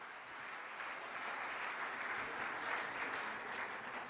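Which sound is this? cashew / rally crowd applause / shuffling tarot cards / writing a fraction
rally crowd applause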